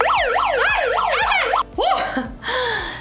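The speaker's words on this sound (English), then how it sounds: "I've got the cool siren." A toy siren wails in a rapid, rising-and-falling electronic pattern, loud and close, then breaks into shorter warbling bursts and tones.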